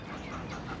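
Backyard chicken coop with hens clucking in short, soft bursts, near and steady, with no talk over them.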